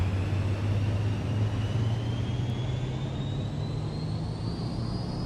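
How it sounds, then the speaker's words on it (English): Steady in-flight drone of a Cirrus Vision Jet, a continuous engine hum with a low tonal rumble and a slowly rising whine, heard from inside the cockpit with no talk. "Gosh, the sounds are so good on this jet."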